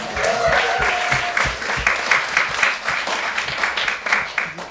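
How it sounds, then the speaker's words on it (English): A group claps, with enthusiastic applause and some scattered whoops, steady then tapering into separate claps. "So give yourselves a round of applause."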